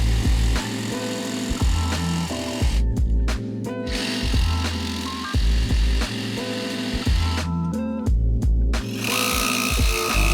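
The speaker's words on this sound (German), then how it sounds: "Das machen wir ganz einfach mit der Stichsäge." A jigsaw cuts a small piece out of a bathroom wall cladding panel from below, buzzing loudly and close in several sustained runs separated by brief pauses.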